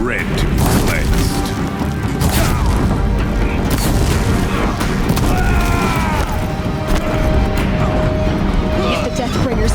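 Deathbringer war machines in Horizon Zero Dawn fire in a dense, loud barrage of booming blasts and mechanical clatter, layered over game music and effects with speech throughout.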